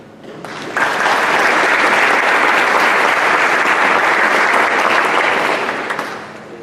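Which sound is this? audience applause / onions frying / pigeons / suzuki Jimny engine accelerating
audience applause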